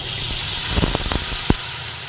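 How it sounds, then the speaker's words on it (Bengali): Water poured into a hot pan of frying rui fish curry with mango, letting out a loud, steady steaming hiss with a few bubbling pops and spatters partway through. "তারপরে এর মধ্যে আমি জল দিয়ে দিই জল দিচ্ছি ভালোভাবে নাড়াচাড়া করে নিচ্ছি"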